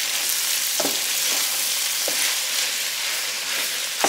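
Meat browns in a hot pan with a loud, steady sizzle and spitting hiss, punctuated by occasional soft stirring clicks, heard up close and without speech.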